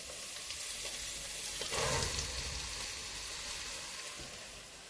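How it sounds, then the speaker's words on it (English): Onions dropped into a hot pan give a steady, close frying sizzle with a brief louder burst near the two-second mark, then settle back to a continuous hiss with no talking. "And now if I put the onions in, it's got to go."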